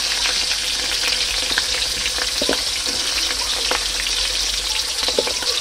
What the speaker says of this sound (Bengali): এবার আমি আলুগুলো এক এক করে দিয়ে একটু ভেজে নেব, ফটাফট ভেজে নেব।